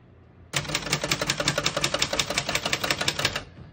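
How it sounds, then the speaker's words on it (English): Typing on a 1970s Remington Streamliner portable typewriter, a fast even run of crisp mechanical key strikes, close and loud, ending in a short trailing clatter. "we're gonna keep it on single for now and finish typing"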